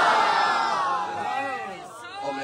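A large audience at an Islamic bayan shouts a religious slogan in unison, a loud collective roar that fades over a couple of seconds into scattered voices.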